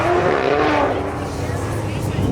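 Race car accelerating hard on an autocross course at LS Fest, its engine a loud, steady roar with a rising tone through the whole stretch, sounding fairly close.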